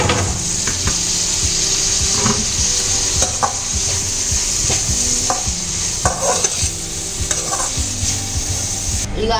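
Tomatoes sizzle in hot oil in a pan for mandal oggarane, with a spoon scraping and stirring in repeated rhythmic strokes under the steady close frying hiss.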